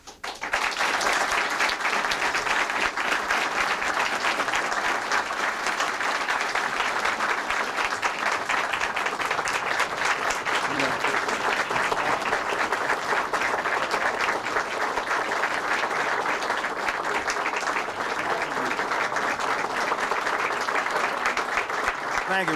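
Sustained audience applause for Colonel William Campbell, a Tuskegee airman, at a formal ceremony honoring General Benjamin O. Davis Jr.; loud, even clapping from a large crowd continues for over twenty seconds.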